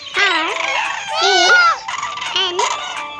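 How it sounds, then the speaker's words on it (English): A crane calls in a series of loud, rattling, trumpeting bursts, three distinct calls up close with brief gaps between them. "Crane."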